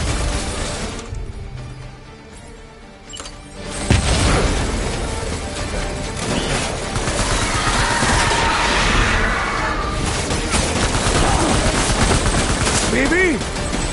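Enemy gunfire in the video game Death Stranding, a dense, loud barrage of rapid shots and booms that keeps going through the whole stretch, with a brief quieter lull before it kicks back in.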